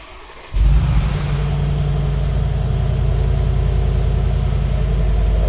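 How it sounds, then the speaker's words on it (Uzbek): A Mercedes G-Class engine kicks in after a short quiet moment and revs hard, then holds a loud, steady, throaty roar close by until the end. "Zavat ko'ramiz endi motorlarni eshitib. Shoh, qani bitta zavat qilingchi."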